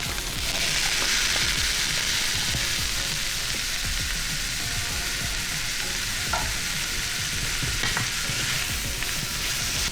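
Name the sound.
onions and garlic frying and being stirred in oil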